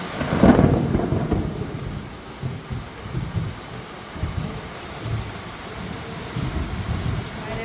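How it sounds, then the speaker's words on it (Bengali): Very heavy rain falls alongside a loud, close thunder rumble near the start, then the downpour keeps roaring steadily with low rolling surges under a constant hiss. "এত জোরে বৃষ্টি হচ্ছে, সব একদম ঝাপসা হয়ে গেছে"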